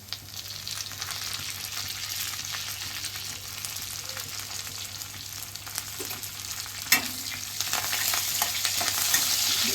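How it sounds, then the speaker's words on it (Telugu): Curry leaves hiss and crackle as they drop into hot oil for a beetroot curry, a steady close sizzle with a sharp spatter partway through. "నేను కరివేపాకు వేస్తున్నాను చూడండి అమ్మా."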